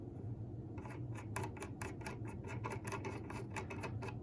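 A nut being tightened back onto the stacked steel cutters and bushing of an Amana #55392 finger-joint router bit, giving a quick run of about a dozen close, crisp ratcheting clicks over a low background hum.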